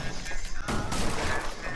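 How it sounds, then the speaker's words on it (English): Gunfire in Rainbow Six Siege as hatches are shot, a burst of sharp crackling shots with a crash-like impact midway through a short, dense stretch of game noise. "I'm gonna run around shooting all the hatches again."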